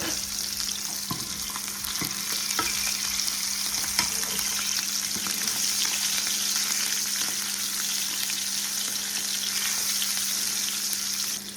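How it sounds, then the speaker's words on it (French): Duck breast (magret) sizzles steadily in a frying pan over slightly lowered heat, a constant close crackle and hiss with no talking. "On va venir cuire l'autre côté du magret maintenant."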